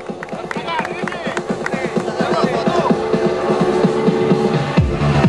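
An audience at a 2009 model aircraft exhibition in Alguazas applauds during an award presentation, brisk clapping building into a fuller crowd sound with cheering and chatter mixed in.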